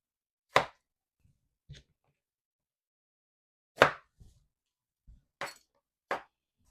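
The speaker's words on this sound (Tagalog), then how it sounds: "Tapos ko na pong hiwain ng mga patola." A kitchen knife cuts through patola, sponge gourd, in a few sharp, separate chops on a board, spaced unevenly with pauses between them, close up and clear against near silence.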